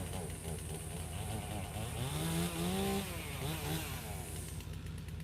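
A Stihl chainsaw runs at a loud, steady drone while firewood is being cut, its pitch rising and falling once as the throttle is blipped, and the engine keeps running throughout.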